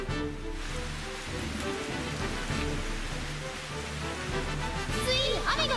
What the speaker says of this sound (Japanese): ついに雨が降り始めました。